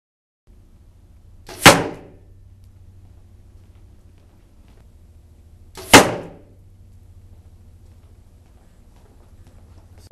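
Two sharp, loud impacts several seconds apart as a G5 T3 100-grain broadhead arrow strikes ballistic gel, each a crisp thwack that decays quickly, over a low steady background hum.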